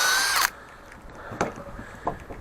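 Power drill running loud and close for about half a second, boring holes while fitting soffit boards, then cutting off, followed by a few faint knocks and handling clatters.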